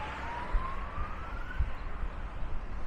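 A distant ambulance siren wails in a rising, drawn-out tone, faint against a steady rumble of traffic noise with a few low thumps.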